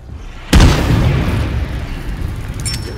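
A thrown explosive detonates in State of Decay 2 with one sudden loud boom, followed by a long rumbling roar of debris and fire that slowly fades, with a faint high tone near the end.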